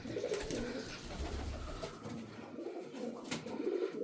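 Pigeons cooing close by in soft, repeated throaty calls over a low background hum, with no one speaking.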